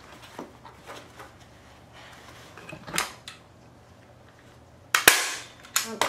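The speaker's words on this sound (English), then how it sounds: "So now I can put my staples going in a circle" A staple gun fires staples through canvas into a wooden stretcher frame, making sharp snapping shots. A few softer clicks come first, then two loud close bangs near the end over quiet handling noise.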